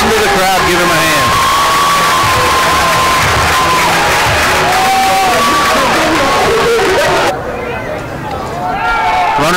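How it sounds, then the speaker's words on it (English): Baseball crowd at a college game cheering loudly after a home run, a dense roar of voices and whoops sustained throughout, with a commentator talking over it. "listen to the crowd give him a hand"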